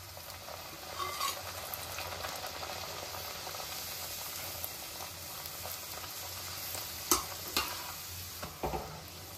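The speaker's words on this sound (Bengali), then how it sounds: "গরম হয়ে গেছে তেলটা আমি মাঝারি আঁচে রেখে কচুরিগুলো সব আস্তে আস্তে ভেজে নেব।" Pea-filled kachoris frying slowly in hot white oil over medium heat, a soft steady bubbling sizzle with a few sharper clinks and stirring knocks near the end, fairly faint and without speech.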